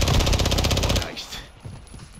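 Rapid automatic gunfire in Call of Duty: Modern Warfare II, a loud, dense burst of shots for about a second that then cuts off into quieter ambient game noise.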